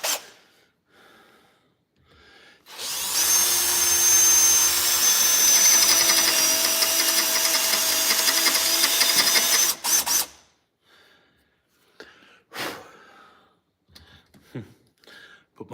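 A power drill whirs loudly and steadily for about seven seconds, then cuts off, with quiet rustling and handling noises before and after.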